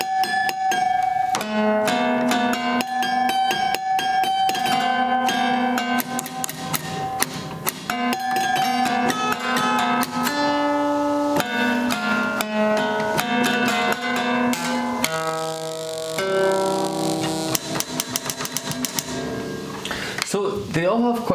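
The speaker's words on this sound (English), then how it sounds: "I really like the high register of these cactus spines too. It creates like a really cool bell tone." Prepared piano notes, high register prepared with cactus spines, give bright, bell-like metallic overtones that ring out steadily in a dense, continuous pattern, played close and fairly loud throughout.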